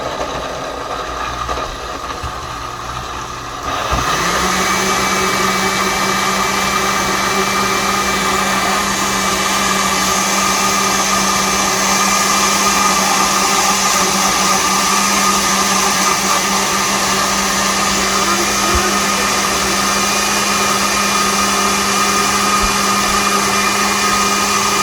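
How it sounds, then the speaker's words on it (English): A blender starts up after a few quiet seconds and runs continuously, blending a dragon fruit smoothie with grapes and strawberries, loud and close with a steady whirring motor hum and a grinding rattle throughout. "now we're going to press the start button to blend everything together"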